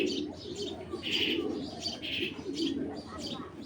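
A black male racing pigeon coos close by in soft repeated throaty calls, several in a row, with faint background noise.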